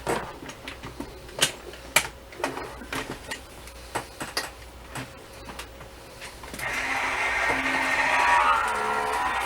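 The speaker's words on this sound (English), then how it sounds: "I'm going to run this in my Gemini" A Gemini die-cutting machine running a paper craft project, scattered clicks and taps giving way to a steady mechanical whir and grind that grows louder toward the end.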